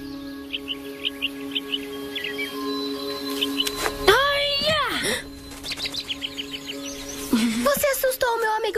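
A small bird chirps in short, bright, high tweets repeated in quick bursts, close by, alongside swooping whistled tones and a steady background hum.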